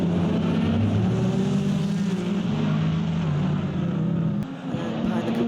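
Race cars roar along the Indianapolis Motor Speedway road course during a Mobil 1 GT Challenge race, a steady loud engine drone under commentary that drops briefly near the end.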